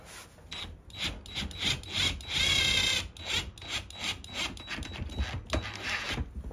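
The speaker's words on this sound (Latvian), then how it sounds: "tad triecienu pistoli provējuši ieskrūvēt." An impact driver drives a screw in a garage, giving close, quiet rhythmic ratcheting bursts of tapping and grinding that surge briefly louder midway and then carry on in short pulses.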